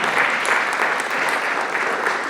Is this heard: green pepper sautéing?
no